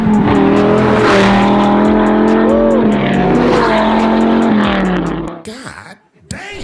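A Honda S2000 swapped with a V10 engine revs and roars loudly up close, with tire squeal, sustained high-pitched engine notes that rise and fall, then cut off sharply near the end; people talk around it.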